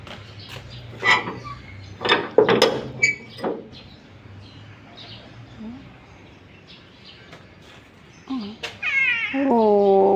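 A cat meows a few times at close range, with a longer, drawn-out meow near the end, among soft background rustles.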